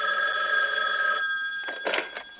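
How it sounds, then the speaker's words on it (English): A telephone bell rings loudly and steadily in a thriller film scene, then breaks off into a few shorter bursts, with no voices over it. "The phone begins to ring from the famous killer"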